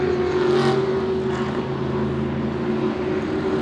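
Race cars circulating during the 24 Hours of Spa endurance race at Spa-Francorchamps, a steady droning engine roar held behind a safety car, mid-distance, continuous and fairly loud with a slight swell early on, no talk.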